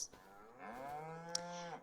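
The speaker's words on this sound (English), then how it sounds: "We have a bunch of cows." A single drawn-out cow moo in the Farming Simulator 25 video game, fairly faint, rising then falling over about a second, with a couple of small clicks around it.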